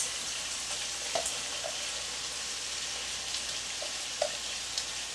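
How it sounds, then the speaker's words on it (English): Chopped large onion frying in a pan for shepherd's pie, a steady soft sizzle with a few faint clicks and pops, fairly quiet and continuous throughout with no talking. "I'm going to add my onions."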